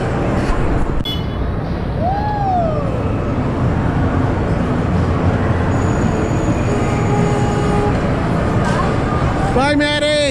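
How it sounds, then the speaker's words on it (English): A small ride train at Navy Pier rumbles steadily and loudly throughout, with squealing wheel tones and chiming, beeping bells near the end, amid the hum of a busy indoor crowd. "So they're getting ready to load the trains."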